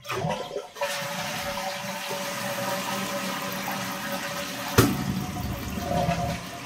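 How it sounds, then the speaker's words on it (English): A 2000s third-generation Eljer Patriot toilet flushes close by, opening with a sharp handle-and-flush surge, then a steady rushing drain as the tank empties, with a brief clunk partway through. "the flapper actually stayed open till almost the entire tank was drained"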